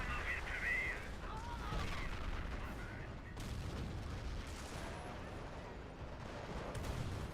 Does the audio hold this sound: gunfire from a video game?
yes